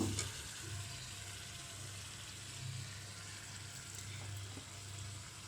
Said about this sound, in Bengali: সবজিগুলোকেও আমি মশলার সাথে নেড়ে চেড়ে খুব সুন্দর করে মিশিয়ে নেব